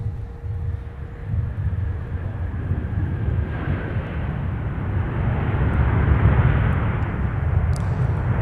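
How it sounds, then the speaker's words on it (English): A Delta Boeing 737-900ER airliner from Miami lands at Minneapolis–Saint Paul airport, heard as a steady, broad jet roar that swells gradually as it nears, with wind noise and a faint whine and no talking. "here's Delta 2129 coming in from Miami, Florida with the 737-900ER."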